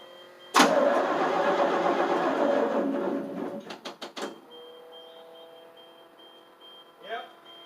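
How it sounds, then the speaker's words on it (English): A 1988 FMC 6000 engine cranks and struggles to start, a loud churning roar that sputters into several sharp exhaust bursts before dying, followed by a faint whine and brief talk. "I have to push the clutch on when you start it"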